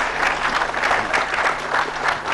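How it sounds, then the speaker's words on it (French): Audience at a French-language communication and media conference in North Kivu applauds steadily, a dense continuous clapping from a crowd heard at moderate distance. "j'espérais que vous applaudirez pour ceux qui ont accepté."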